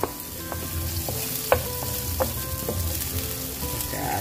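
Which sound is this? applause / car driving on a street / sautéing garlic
sautéing garlic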